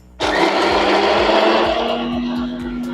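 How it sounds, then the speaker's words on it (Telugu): Mixer grinder jar whirring as it grinds fried green chillies and peanuts into paste: a sudden loud motor start, then a steady high-pitched whine with rapid rattling, close and alone. "మనం ముందుగా ఫ్రై చేసుకున్న పచ్చిమిర్చి పల్లీలు అన్నీ మిక్సీ జార్లోకి తీసుకుంటున్నాను."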